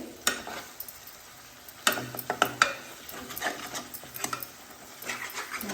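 Ginger garlic paste sizzling in a pan for fish curry, a steady fry crackle with sharp spoon scrapes and clicks against the pan scattered throughout, close and moderately loud.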